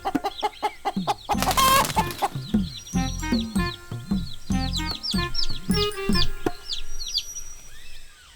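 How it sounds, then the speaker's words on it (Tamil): Cartoon chickens cluck and crow repeatedly on a chicken farm, with a quick burst of squawking flutter near the start and bright chirps scattered throughout, busy and close. "இங்க ஒரு கோழி பண்ணையே இருக்குது."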